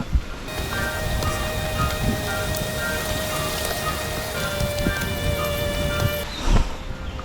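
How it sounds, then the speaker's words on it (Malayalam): Steady rushing water of a forest stream on the Agasthyarkoodam trek flows without pause, a dense close wash of sound with faint high insect-like tones running through it and no voices. "ഒരു അരുവിയുടെ അടുത്തേക്ക് എത്തുകയാണ് കേട്ടോ."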